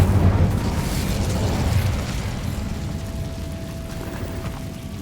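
An Incendio fire spell in Hogwarts Legacy erupts in a loud, rumbling blast inside an abandoned cave-in area, then decays into a long, roaring fiery hiss with a faint sustained tone.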